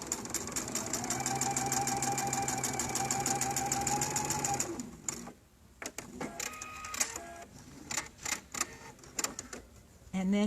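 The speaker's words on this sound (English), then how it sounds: "You're gonna sew your first seam." A sewing machine stitching a seam, running in a fast, even mechanical rhythm for several seconds, then stopping and giving way to short bursts of clicks and handling noises, close by.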